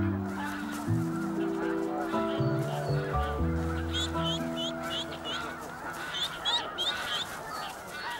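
Snow geese honking near their nest in the Arctic tundra, a dense chorus of repeated nasal honks, loud and close, continuing throughout over a steady background.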